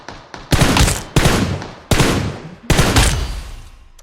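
Gunfire in a battle royale video game rings out in four loud, sharp bursts, each a rapid cluster of shots decaying quickly before the next volley.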